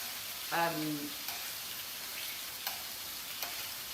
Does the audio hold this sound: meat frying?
yes